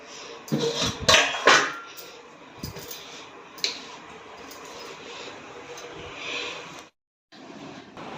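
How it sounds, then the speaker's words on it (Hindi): Metal cookware clatters and clinks on a stove, with a few sharp knocks as a lid is set over a pan of paratha, then a brief silence and steady low kitchen hiss. "तो अब इसको ढक देते हैं और सेक लेते हैं जल्दी से पराठा।"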